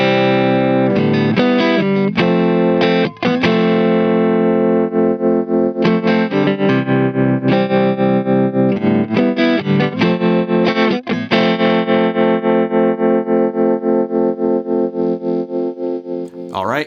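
Electric guitar played through a Boss TR-2 tremolo pedal in its stock, unmodified state, with steady strummed chords pulsing in a fast, even volume throb that runs loud and close for the whole stretch.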